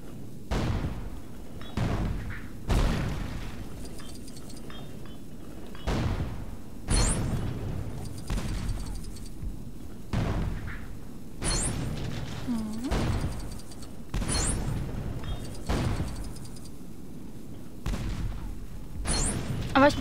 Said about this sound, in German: ich muss hier eh noch die Kanonen bedienen.